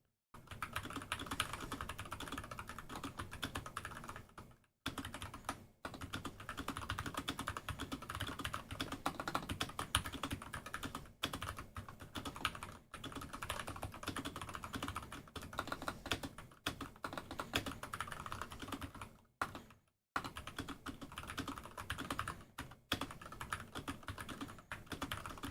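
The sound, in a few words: fast typing on a computer keyboard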